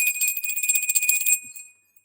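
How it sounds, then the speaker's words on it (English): A small bell rung to cleanse energy before a tarot reading gives a bright, sustained metallic ring with a quick shimmering tremble, close and clear, fading out after about a second and a half with no talk. "So we always ring the bell to cleanse the energy around the reading."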